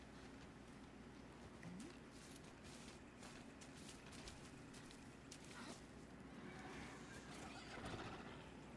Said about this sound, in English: Why does it make a horse noise?